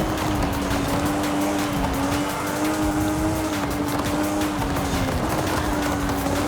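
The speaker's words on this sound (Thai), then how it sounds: "เบรกเบรก" A Nissan Silvia S15 Spec R with an RB26 engine and all-wheel-drive swap brakes hard in Forza Horizon 5, a sustained tire squeal holding steady over loud engine and road roar.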